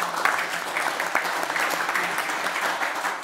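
An audience at a panel discussion on the Middle East breaks into sustained applause, dense and fairly loud clapping that holds steady for several seconds with no talking.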